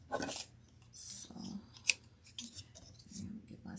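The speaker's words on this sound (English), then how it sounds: "get my smaller scissors." Small scissors cut craft paper for a Valentine's treat box, giving a few quick, close snips with crisp metallic clicks and rustling between them, heard alone without speech.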